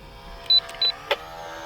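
A mini RC P-51 Mustang warbird's electric motor hums with a steady high whine and rises in three quick throttle blips, close by and alone.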